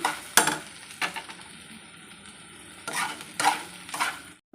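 Spiced vegetables, okra in a chilli-powder masala, frying and being stirred in a pan, with bursts of scraping and sizzling at about 0.4, 1 and 3–4 seconds over a steady low sizzle, close and fairly quiet.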